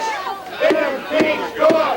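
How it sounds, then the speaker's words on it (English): A crowd gathered on a sidewalk outside a hotel, cheering and jeering at a president, with loud rhythmic shouts rising in three bursts over a constant murmur of voices. "people gathered to cheer and jeer the president"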